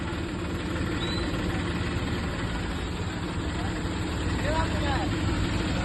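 Lorry engine idling in stopped traffic beside a large Ganesh idol procession, a steady low rumble running continuously and fairly close, with people talking over it.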